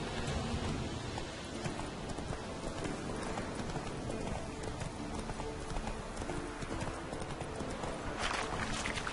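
Hooves of Roach, a horse in The Witcher 3, clip-clopping steadily at a walking pace throughout, close and continuous, with a faint rain-like hiss beneath.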